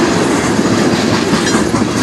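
A CN manifest freight train led by CSX and CN locomotives rolls past near Sarnia, Ontario, in light rain before dawn, a loud, close, continuous rumble of rail cars with steady clatter and no voices.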